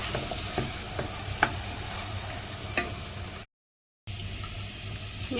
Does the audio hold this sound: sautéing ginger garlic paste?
yes